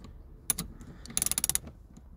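A hand ratchet fitted with a T10 bit loosens a screw on a Vauxhall Corsa D interior blower: a quick click, then a rapid run of about eight close, crisp ratcheting clicks, quiet and alone.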